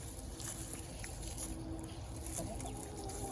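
Quiet, low clucking of three young chickens hatched by a hen in a coop, close by, intermittent soft calls over a steady background hum.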